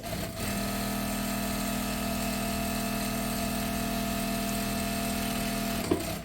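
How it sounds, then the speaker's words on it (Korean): A Juki-class industrial sewing machine runs an automatic backstitch in one long steady whirring burst at close range, then stops abruptly near the end. "도매 소리 자동 도매 지금 들어가고 있는 겁니다"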